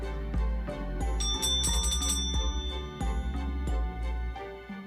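A small bell rings with bright, tinkling strikes over a low, sustained droning background, several rings close together.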